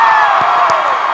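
A youth summit audience in Omaha, Nebraska roars with loud, sustained cheering and whoops, a dense close crowd wash with scattered clapping.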